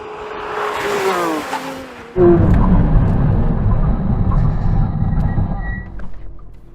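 A Porsche brakes hard from 100 mph in a stopping-distance test: a loud engine note and tyre noise, then a sudden heavy surge of broadband roar and rumble as the car decelerates, close and continuous.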